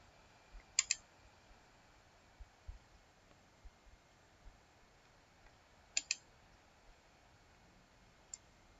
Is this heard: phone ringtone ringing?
no